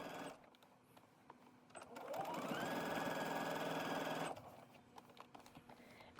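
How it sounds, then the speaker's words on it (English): A sewing machine runs one top stitch above the skirt seam of a Lazy Daisy summer dress, a single steady whir of about two seconds, soft and close, with quiet handling sounds before and after. "You're going to add a top stitch just above the skirt panel on the dress, right above that seam line."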